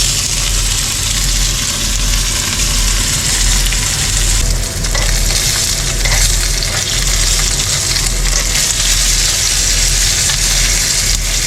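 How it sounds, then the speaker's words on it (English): Tuna searing in super hot oil in a pan gives a loud, continuous sizzle and crackle that holds steady throughout, close up, with a low rumble underneath and no talk. "Okay, our oil's super hot. There we go, quick searing."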